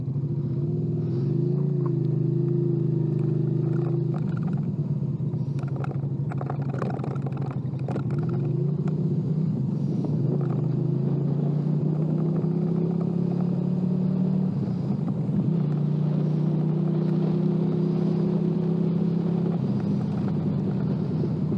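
A well-kept used motorcycle rumbles steadily on a ride in fine weather, its low engine drone holding close and loud throughout, with the pitch gently rising and falling as it changes speed.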